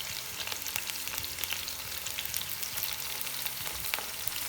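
Beans added to tomato paste sizzle steadily in a pan for a clay-pot dried bean stew, the frying a continuous crackle with light scraping underneath and no talking.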